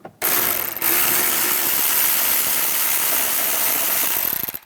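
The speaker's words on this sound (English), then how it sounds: "Now take these screws out. Use a 10mm socket." A 10mm socket ratchet backs out screws holding the side mirror on a 2007-2013 Chevrolet Silverado; a steady, close, loud buzzing run lasts several seconds after a brief start, with no talking.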